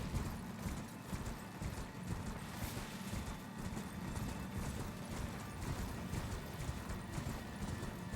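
Hooves clip-clop steadily on the ground from a horse in the video game Elden Ring, a continuous rhythmic trotting with faint mechanical creaks underneath and no talk.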